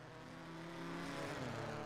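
A race car circling the track during a PCC Lites race at Lexington, an engine whine with rising, shifting tones that swells slightly louder toward the end, faint and somewhat distant.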